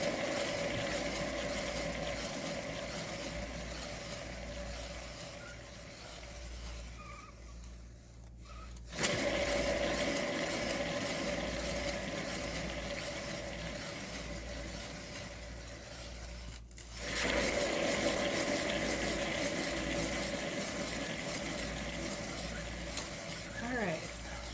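A paint spinner machine whirring steadily as it spins an 8x8 inch canvas, a continuous motor hum and rattle that cuts out and restarts twice, with a voice speaking over it.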